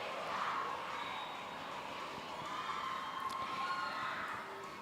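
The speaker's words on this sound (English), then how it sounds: "You can hear the crowds really cheering for Bishop's College there, motivating their team, cheering their team on." Crowd cheering for Bishop's College at a school hockey match, a steady, distant wash of many voices and children's shouts holding at an even level throughout with no clear peaks.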